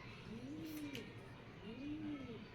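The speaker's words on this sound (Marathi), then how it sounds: "कबूतर येतात ते भुगायला लागलेत" Pigeons coo near a home, two soft, low, rolling coos about a second apart, faint against a quiet room background.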